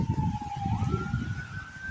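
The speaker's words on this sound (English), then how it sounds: "I just heard a lot of ambulance." An ambulance siren wails in the distance, its pitch sliding and shifting, faint over a low rumbling background of traffic.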